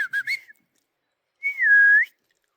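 People whistling at a forest camp in central Oregon: three short chirpy whistles, a pause, then one longer sustained whistle, clear and close with silence between.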